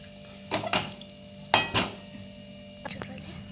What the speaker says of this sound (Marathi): एकदम लो गॅसवरती आपल्याला ही जिन्नसं भाजून घ्यायची आहे एकसारखं आपल्याला हे व्यवस्थित परतवून घ्यायचं आहे